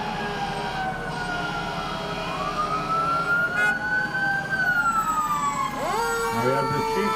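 A fire truck siren from a Buchanan St. Patrick's Day parade wails in long rising and falling sweeps, then drops into a quick yelp, moderately close over crowd murmur and an idling engine.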